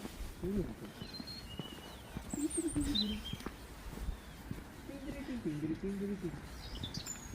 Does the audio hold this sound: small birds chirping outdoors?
yes